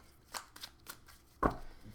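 Tarot cards being shuffled by hand, a few quick soft riffling bursts followed by a firmer slap as the deck settles, close and fairly quiet with no talking.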